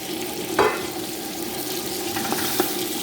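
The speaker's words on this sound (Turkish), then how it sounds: "Bunlar kızardıktan sonra ise pomidorları elave edirik." Eggplant fries in a pan as tomatoes are added, giving a steady close sizzle broken by a few short clinks and splashes around the middle and end; no talking.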